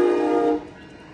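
An Amtrak Capital Corridor train led by a Siemens locomotive passes in Oakland, a loud, tonal horn-like blare that cuts off after half a second, leaving a lower rumble of the passing train.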